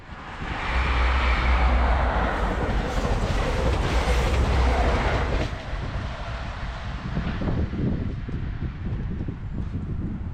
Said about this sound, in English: see when the train's going past, you can like feel it, you can hear it